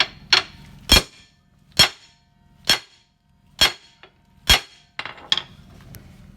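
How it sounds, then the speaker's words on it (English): Hammer whacking a front axle U-joint into place: seven or eight sharp metallic strikes at a steady, roughly one-per-second pace, loud and close, with brief ringing after each blow. "Let me whack it a couple more times here."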